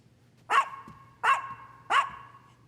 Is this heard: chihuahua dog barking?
yes